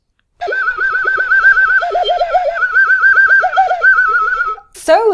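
Tin whistle played with extended technique into warbling, wobbling alien-like squeals, a continuous stream of sliding high tones for about four seconds, loud and close, ending in a brief sharp squeak.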